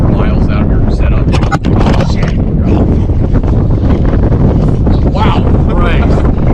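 Wind gusts buffet the microphone while riding an e-bike, a loud continuous roaring rumble that stays heavy throughout with brief dips in intensity.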